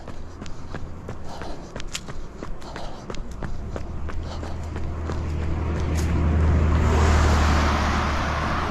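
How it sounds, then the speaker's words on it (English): A car approaches and passes on a road in the early morning, its engine and tyre noise swelling over the last few seconds beneath the close, rhythmic footfalls of a runner on the roadside. "Car coming."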